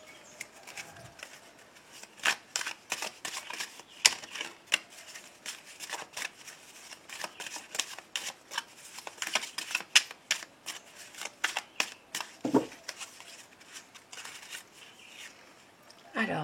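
Tarot cards being shuffled for a card draw, a quick run of soft papery riffles and flicks with irregular rhythm, close and fairly quiet, with no talking.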